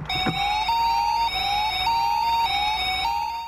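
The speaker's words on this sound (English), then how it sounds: "If one of these is knocked over, it sets off an alarm where the men are working and warns them of the danger" An intelligent traffic cone alarm at a roadworks site warning road workers, a loud continuous electronic siren cycling up and down in repeating wails, close and alone.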